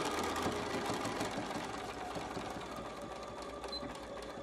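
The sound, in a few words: sewing machine stitching a fabric mask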